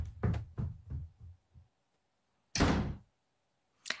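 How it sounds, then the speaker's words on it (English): An interior door slams shut at the top of a staircase in a house, a single loud, full-bodied bang standing alone after a run of quick, heavy footsteps thudding up the stairs, with a brief knock-like tail at the end. "I quickly turned and ran up the stairs to my room, slamming the door behind me."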